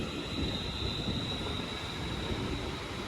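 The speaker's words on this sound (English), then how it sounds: "the 956 London North Western Rail service from Crewe to London Euston is leaving" A London Northwestern Railway class 350 electric train pulls away from Crewe station, a steady rumbling roll of wheels on track with a thin high whine, heard fairly close and continuous.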